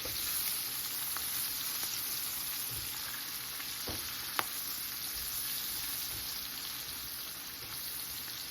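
Bacon and onions sizzle in a skillet while being stirred for collard greens, a steady soft crackling hiss with occasional sharper pops and a faint scrape, heard alone and fairly quietly.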